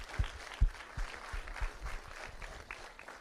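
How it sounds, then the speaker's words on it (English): An audience at a student ceremony gives a round of applause, dense scattered clapping from a crowd with a few sharp louder claps near the start, steady and moderately distant. "a big, huge round of applause"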